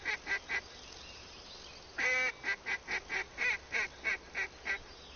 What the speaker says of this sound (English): Next group of ducks are gonna come from there.